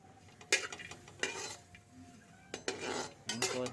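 Dry fruits are roasted and stirred in a pan over a low flame for date ladoos, giving quiet scraping and clinking strokes of a spoon against metal at irregular intervals.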